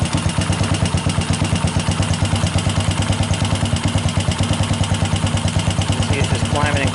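A motorcycle engine idles after a three-phase stator swap and clutch rebuild, its loud, steady, rapid chugging firing pulses and mechanical clatter running throughout, close up and with no talking.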